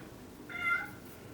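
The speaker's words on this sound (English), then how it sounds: "My baby kitten." A kitten gives a single short meow near the middle, clear and close over a quiet room background.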